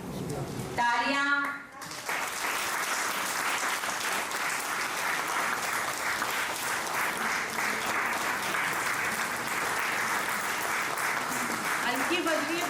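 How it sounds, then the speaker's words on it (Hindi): Applause from an audience at a railway retirement function rolls on steadily for several seconds after a brief voice at the start, a dense, even clatter of many hands. "हल्की बज रही है तालियां"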